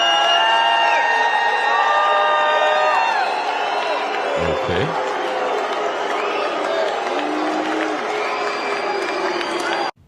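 A large crowd at a political rally cheers and whoops in a loud, sustained roar with scattered shouts. One brief spoken word sounds over it, and the noise cuts off abruptly at the end.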